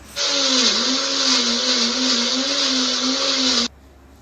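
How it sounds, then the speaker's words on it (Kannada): A mixer grinder grinding ginger with a little water starts up and whirs at a loud, steady high pitch for about three and a half seconds, then cuts off abruptly. "ಮಿಕ್ಸಿಯಲ್ಲಿ ಹಾಕಿ ಸ್ವಲ್ಪ ನೀರು ಹಾಕ್ಬಿಟ್ಟು ಚೆನ್ನಾಗಿ ರುಬ್ಕೊಳ್ತೀನಿ"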